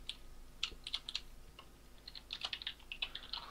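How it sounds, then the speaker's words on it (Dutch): Rapid clicking of keys on a computer keyboard, typed in two quick bursts with a short pause between, close and fairly quiet, with no speech. "ik moet typen"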